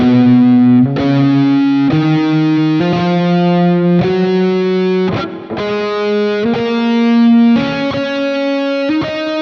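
Electric guitar with distortion playing a lead line of single sustained notes, some sounded twice as a hammer-on or pull-off and again when picked, giving a slightly stuttering, doubled attack; steady and close with no voices.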